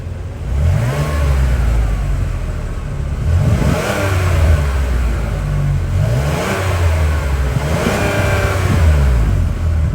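A Cadillac 3.6-liter V6 engine in a 2024 Cadillac XT6 Sport revs repeatedly, climbing and falling in four or five regular bursts over a low idle rumble, close and loud.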